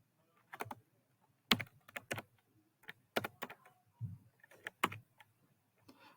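Bursts of keystrokes on a computer keyboard, typed in short irregular clusters with brief pauses between them, close and fairly quiet.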